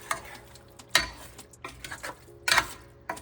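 A spoon scrapes and clinks against a pot while stirring chicken potato soup with stock and water, with a few louder knocks at uneven intervals, close by.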